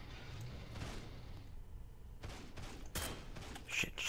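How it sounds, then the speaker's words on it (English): Gunfire bursts from the Heroes and Generals video game: a few sharp, broadband volleys and single shots break over a low, steady battlefield rumble, with no talking. "Oh, he had a machine gun."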